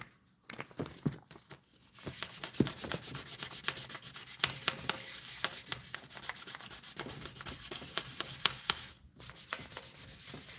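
Sandpaper rubbing over powder coat in quick back-and-forth strokes, a dry rasping scratch that runs nearly continuously with brief pauses, close and fairly loud.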